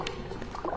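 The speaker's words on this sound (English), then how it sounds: "Blowing out little bubbles, he picks up tiny scent particles in the water" Water shrew blowing tiny bubbles underwater while hunting, a brief soft burbling and fizzing of small bubbles, close and faint.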